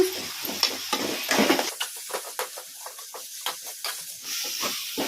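Poha with green chilli paste is stirred in a hot pan, producing a close series of scraping, rustling strokes over a soft sizzle, with no talking.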